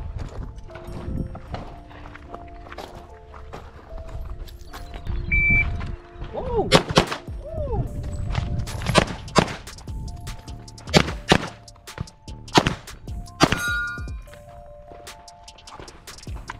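Repeated sharp gunshots from pistol and rifle shooting drills, fired in irregular bursts and single reports over about sixteen seconds, loud and close with outdoor echo and occasional electronic timer beeps.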